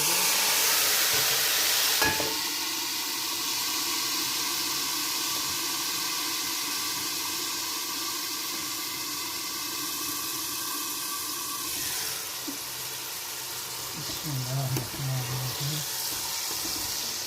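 Steady hissing sizzle of cumin seeds frying in hot oil for a tempering, continuous throughout, with a brief stir or clatter near the end.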